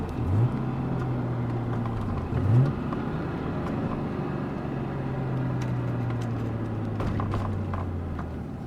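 A 1990 Nissan 300ZX sits idling at a steady low pitch with continuous engine hum, two brief blips early on rising and falling, then the idle settles into an even drone.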